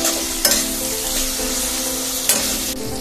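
Tomatoes with salt fry and sizzle in oil in a pan, a loud, steady crackle with a couple of brief stirring scrapes.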